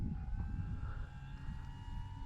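A radio-controlled model airplane drones steadily as it comes in to land, its engine note holding a constant hum over low, rumbling wind noise.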